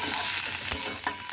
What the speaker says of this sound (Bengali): খুব ভালো করে তেলের সাথে কালো জিরে কাঁচা লঙ্কার সাথে ওই লাউ শাকটাকে আর রসুনের সাথে মিশিয়ে নিতে হবে